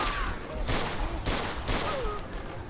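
Tommy gun fire from the Mafia 2 video game rattles out in several short bursts over a steady wash of in-game background noise.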